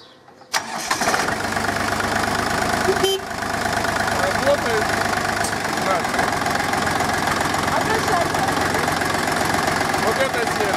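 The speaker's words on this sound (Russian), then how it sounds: "Юр, трактор я тебе починила." A tractor engine turns over and settles into a steady, rumbling idle that runs continuously close by, with people talking over it.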